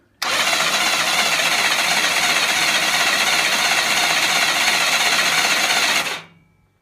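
A BSA Fury SS motorcycle's electric starter motor turns the engine over with the cam box removed, giving a loud, steady mechanical whirring drone that runs unbroken for about six seconds and then stops sharply.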